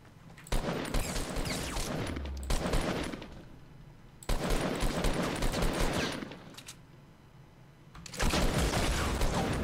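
Bursts of rapid gunfire and explosive blasts in the video game Fortnite, three sustained loud volleys of several seconds each separated by brief quieter gaps, close and dominant.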